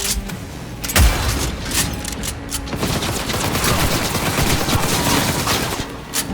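Sustained gunfire in Cyberpunk 2077, with dense, rapid automatic bursts and a heavy shot near the start, the rattle continuing loud and steady for several seconds with no voices.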